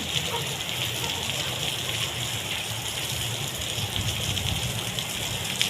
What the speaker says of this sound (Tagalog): Lalakas pa tong ulan guys.